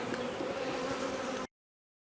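Honey bees buzzing around an open hive during a beekeeper's inspection, a steady close drone that stops abruptly partway through.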